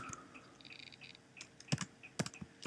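Someone types a short command on a computer keyboard during a root locus software tutorial: sparse, crisp keystrokes and clicks, close and fairly quiet, with no talking.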